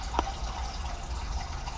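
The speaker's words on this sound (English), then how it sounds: "that noise you're hearing is when the pumps kick in." Groundwater pumps running under a house, drawing off contaminated water as a steady, rushing watery hiss, with one brief drip-like tick near the start.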